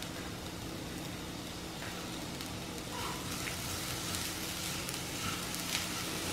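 Grated carrot frying in a new non-stick pan, a steady dense sizzle filling the whole stretch at an even level, close and continuous with no talk over it.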